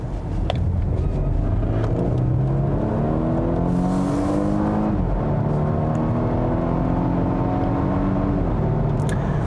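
2020 Volvo S60 T6 all-wheel-drive sedan accelerating hard, engine rising through the revs with clear gear shifts, heard close and loud from inside the cabin without speech.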